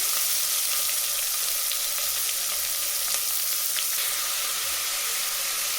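Two large chopped onions sauté in hot oil for a soya chunk and chickpea vegetable biryani, giving a loud, steady, close sizzle that runs unbroken with faint stirring scrapes.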